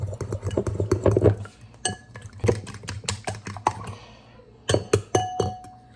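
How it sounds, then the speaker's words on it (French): Eggs being whisked in a bowl with quick, clinking strokes of a utensil against the sides, loud bursts of beating broken by brief pauses, close and with no talking. "So, je mélange bien."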